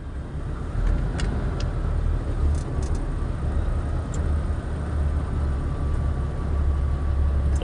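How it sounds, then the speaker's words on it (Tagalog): Road traffic on Road 10, lined with cars parked by rallygoers, gives a steady low rumble of idling engines that holds throughout, with faint ticks and distant vehicle noise on top. "So traffic na guys."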